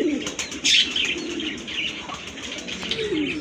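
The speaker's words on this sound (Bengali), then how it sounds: "দুইটা কিন্তু একদম সেম কালারের কবুতর" Pigeons coo steadily in a close, busy chorus at a pigeon sale, with a burst of wing flapping near the start and no talk over it.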